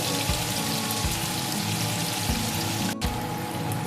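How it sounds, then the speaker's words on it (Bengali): Paneer cubes frying lightly in hot oil, a steady close sizzle running throughout with soft bubbling pops and one brief dip near the end. "বেশি ভাজবো না, অল্প একটু লালচে করে ভেজে নেব।"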